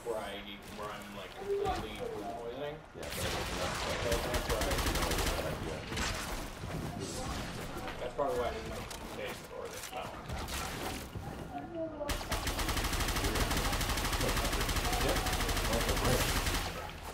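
Rapid gunfire bursts from the Warframe Conclave player-versus-player mode, dense and continuous over game music and effects, with players talking throughout.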